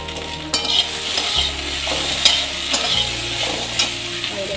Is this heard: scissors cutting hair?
no